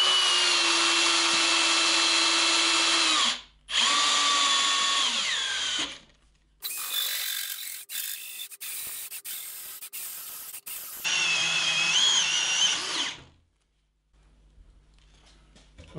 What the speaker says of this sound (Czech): U toho doporučuji vrtat pomalu a vždycky si trošku nadzvednout tu děrovku